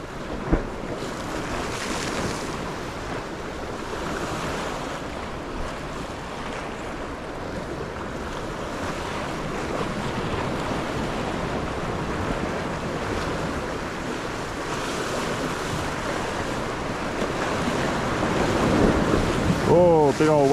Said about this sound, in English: Hearing that sea rushing in and out,